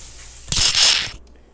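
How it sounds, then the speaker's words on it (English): Stuffed fish lowered into hot oil in a small fryer basket gives a sudden loud burst of bubbling sizzle that holds for about half a second, then fades to a quieter hiss. "So place it in there and let it fry"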